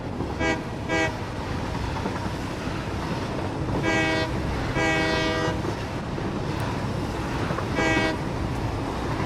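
A train running in the factory-building video game Satisfactory, with a steady rolling rumble beneath several loud horn toots in short pairs and groups.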